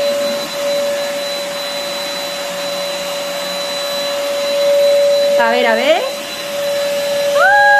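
A vacuum cleaner drones steadily with a high whine, close and loud, while a voice speaks briefly near the end amid a short shift in the motor pitch.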